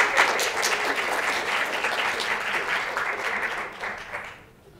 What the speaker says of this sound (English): Round of applause for that and also for her.